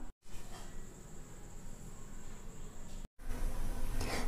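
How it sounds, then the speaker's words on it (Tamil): A steady, loud whirring drone of a mixer grinder grinding a paste with water for crab curry, running continuously, briefly cutting out and restarting, close up. "இதை நல்லா நைஸாக அரைச்சிட்டு வந்துடலாம்."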